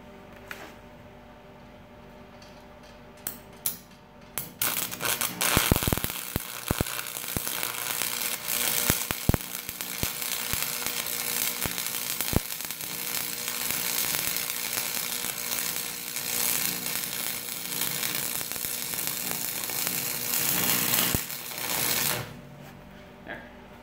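Steady crackling and sizzling of a second weld bead being laid on a trailer frame, running continuously for most of the stretch after a quieter start, with a few sharp pops near the beginning.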